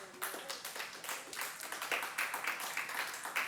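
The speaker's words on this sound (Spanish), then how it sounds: "Dale un aplauso al Señor." A church congregation clapping quietly for the Lord, steady, slightly irregular applause from a modest crowd at moderate distance, without talk.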